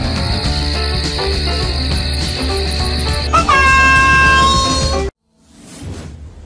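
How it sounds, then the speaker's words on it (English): A common wasp buzzes with a steady insect drone mixed into a busy background, followed by a whoosh and a brief swelling tone before the sound cuts out into near silence. "Common wasp. Ong vò vẽ thường."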